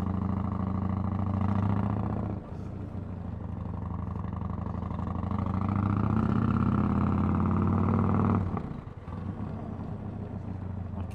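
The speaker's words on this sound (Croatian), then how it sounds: "Idemo da vozimo ovu zver od motora." A Yamaha MT-01 motorcycle engine runs while being ridden, a deep steady rumble that swells gradually, drops briefly, then settles after a sharp dip, loud and close with no talk.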